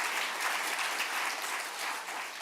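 Applause from a conference keynote audience in a hall, a steady dense clapping wash that holds for the whole stretch with no voices over it.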